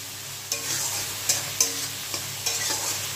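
Potatoes and spices frying in oil with green chillies added, for a light-oil mustard fish curry: a steady close sizzle with several sharp stirring scrapes spaced through it, no voices.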